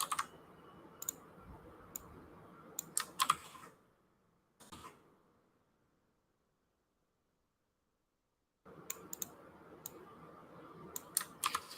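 Bursts of quick, clicky keyboard typing, with a few seconds of silence in the middle before the rapid keystrokes resume, close and fairly quiet.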